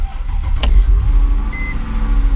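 A 2003 Mercedes-Benz CLK 430 V8 engine cranks over with a sharp click, then settles into a loud, low, rumbling idle close by, lasting a couple of seconds.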